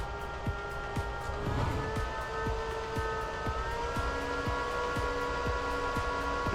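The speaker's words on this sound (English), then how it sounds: "that's just from these fans running up by themselves" Crypto miner cooling fans, swapped for Noctua replacements, running steadily on their own with a constant whirring drone, steady tonal hum and regular periodic ticks throughout.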